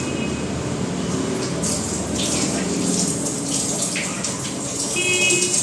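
Hands being washed under a running tap on a rainy morning, a steady splashing gush of water that swells and shifts as the hands move through the stream, with no clear talk.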